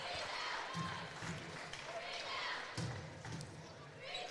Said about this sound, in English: Everybody getting a round of applause.